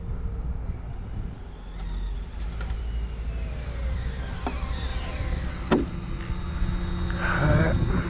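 The Slash launches on a test-and-tune run, spinning a little off the line, its engine note sweeping upward in rising whining tones as it accelerates, fairly loud against a broad noisy background.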